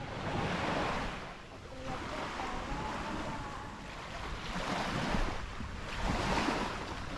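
Ocean waves rolling onto a beach at high tide, a steady wash of surf rising and falling in broad swells, moderately distant, with some wind noise and no talk.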